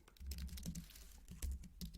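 Computer keyboard keys tapped in quick irregular bursts while code is written, close and fairly quiet, with no talking over them.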